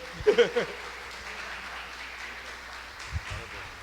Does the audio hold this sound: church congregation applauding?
yes